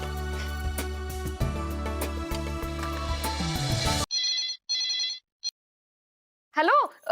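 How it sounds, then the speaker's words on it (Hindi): A telephone rings insistently over busy background noise, then two more short rings sound clearly in near silence, followed by a brief voice. "अरे माधवी बेटा, बस मैं अभी तुझे ही फोन करने वाली थी।"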